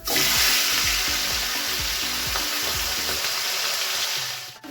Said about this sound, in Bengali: তো এবার আমি চিংড়িগুলো ফ্রাই করব।